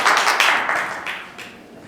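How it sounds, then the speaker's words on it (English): An audience applauding, a dense wash of many hands clapping together that gradually fades over two seconds. "let's give a warm round of applause to Ms. Margot McMahon"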